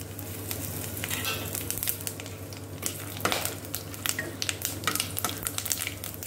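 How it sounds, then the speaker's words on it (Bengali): Whole spices for tempering hit very hot oil left from frying bhetki fish, a close, bright sizzle with rapid crackles and pops over a low steady hum, no talking. "আমি প্রথমে আমার ফোড়নের জিনিসগুলো দিয়ে দেব।"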